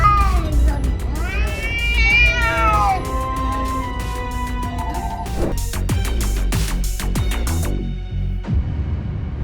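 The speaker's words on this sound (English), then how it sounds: "This domestic cat was able to scare off a mountain lion by just meowing." A cat meows loudly and repeatedly in drawn-out, wavering yowls, close by, with sharp clicks and knocks scattered through the second half.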